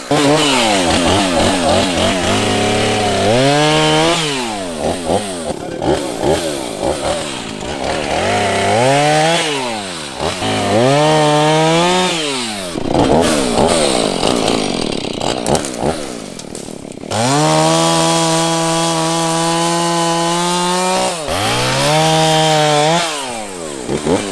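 A Husqvarna chainsaw runs on a ranch during tree work, loud and close, revving up and down repeatedly as it bites into wood, with the engine note dropping under load and climbing again between long cuts.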